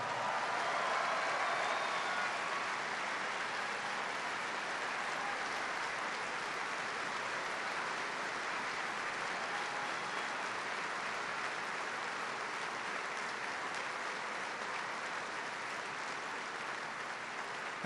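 A large farm bureau audience applauds a presidential speech with a steady, dense wash of clapping that holds at an even level throughout, heard from a distance.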